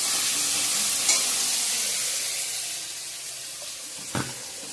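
Banana blossom frying in a pan with salt and spices for a Bengali vegetarian dish, a steady close broadband sizzle with a couple of brief clinks or stirs, no talking.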